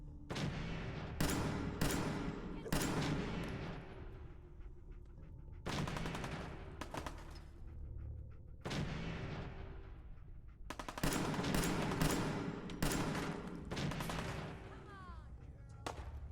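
Bursts of cover gunfire in the video game Fallout 4, several separate volleys of rapid close shots with short pauses between them, loud throughout.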